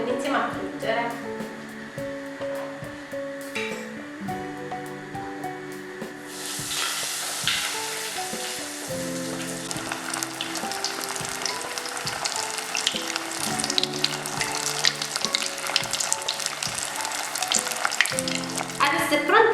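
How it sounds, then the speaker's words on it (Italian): Oil starts sizzling loudly partway through as food drops in, a dense crackling fry that continues steadily with some clattering and voices underneath. "L'olio è ben caldo, iniziamo a friggere."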